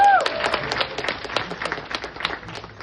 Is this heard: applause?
yes